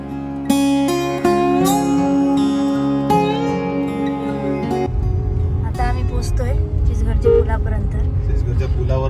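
A car travels by road from a Konkan village toward Panvel in monsoon weather; music plays first, then a steady low engine and road rumble fills the cabin, continuous and fairly loud.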